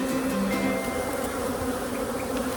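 Honey bees from a feral hive being split swarm in a dense, steady buzz that fills the air, loud and close throughout with no talking.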